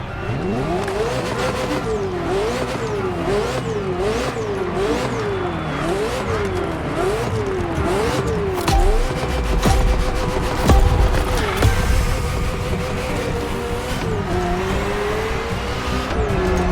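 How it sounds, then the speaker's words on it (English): A Ferrari F40 supercar in The Crew Motorfest, its engine loudly revving up and down through repeated gear changes, tires squealing and skidding midway, with a voice speaking faintly beneath the roar. "The Ferrari F40, second vehicle of the manufacturer to earn the prestigious supercar status"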